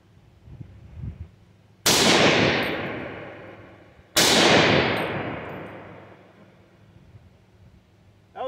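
Two loud, close gunshots from a Ruger SFAR rifle, about two seconds apart, each a sharp blast followed by a long ringing decay, with a faint metallic clink just before the first.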